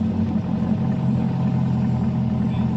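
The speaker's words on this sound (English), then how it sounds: "That's Paragon exhaust." C8 Corvette fitted with a Paragon exhaust, a steady deep engine rumble close by, idling evenly for a few seconds with no talk.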